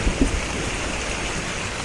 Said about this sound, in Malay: Dah hujan! Cepat!